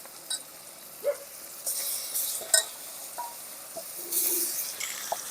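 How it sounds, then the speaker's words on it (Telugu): Washed chicken pieces dropped into tomatoes cooking in a pan, giving a soft sizzle with scattered stirring scrapes and light clinks of utensils against the pan, fairly close and without talk. "కడిగి పెట్టుకున్న చికెన్ ముక్కల్ని ఇందులో వేసుకుందాం"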